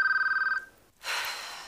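An old-style telephone bell rings in a rapid trill, then stops, followed by a brief pause and a burst of hissy noise.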